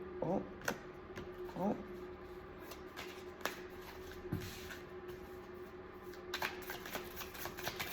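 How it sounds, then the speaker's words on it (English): Tarot cards are shuffled in short riffling bursts, crisp papery flutters repeating irregularly at close range, with faint speech in the background. "My blue deck likes to be shuffled the other way."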